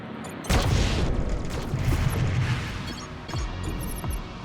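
Weapons in the space strategy game Crying Suns fire and explode: a heavy boom and rumbling crash, then a second softer blast, with crackling debris between them and no talk.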